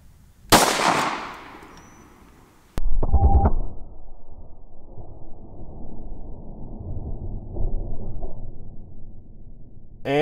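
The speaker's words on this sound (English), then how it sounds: "now let's shoot the critical defense, and we're starting with the Glock 17" A Glock 17 fires Hornady Critical Defense rounds into ballistics gel outdoors: two sharp, loud reports a couple of seconds apart, each with a trailing echo, followed by quieter handling noise.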